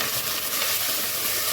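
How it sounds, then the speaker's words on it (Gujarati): Curry leaves hit hot oil already crackling with mustard seeds and cumin for batata poha, giving a steady, close, continuous sizzle with no talking. "મીઠો લીમડો ઉમેરીશું, આપણી રાઈ જીરું બધું ચટકી ગયું છે"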